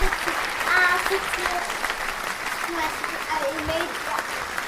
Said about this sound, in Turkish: Alkış Afra'ya